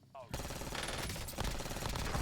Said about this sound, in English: This gun shoots so quick.